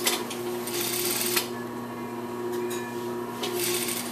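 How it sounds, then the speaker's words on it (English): A sewing machine runs a steady close hum while stitching pant lining, with a few brief louder surges and small clicks and no talk. "So we're going to sew these, finish it up at a 1/2 inch."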